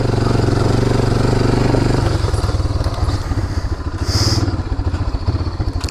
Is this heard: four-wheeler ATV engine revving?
yes